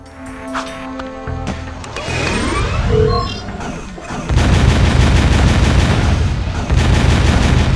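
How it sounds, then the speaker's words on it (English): Scattergun blasts in the video game Jak II, heavy booming shots in quick bursts layered with game effects and impacts, loud and dense, growing stronger in the second half. "the scattergun is probably better when they're all up close right there"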